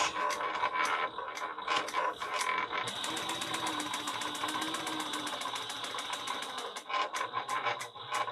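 A sewing machine back stitching a travel bag runs in a steady rapid chatter, with a dense burst of fast even needle strokes midway, then a few short stops and restarts close by.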